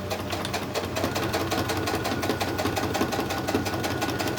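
A sewing machine runs steadily, stitching down the edge of a crazy crumb quilt block with a dense, continuous mechanical whir and rapid needle chatter, close and even throughout with no talking.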